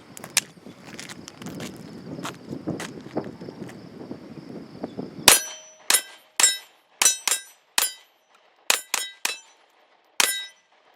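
A Walther PPQ pistol fires steel-cased ammunition at steel targets outdoors, about a dozen sharp shots in uneven succession, each followed by a bright ringing clang from the struck steel, with quieter shuffling and knocks before the shooting starts.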